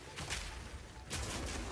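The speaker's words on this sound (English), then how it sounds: "using it will summon a cannon which loads and then fires the grenade" Grenades launched from a summoned mortar cannon in the Path of Exile 2 video game: two bursts of rapid, rattling blasts separated by a short pause, moderately loud with no talk.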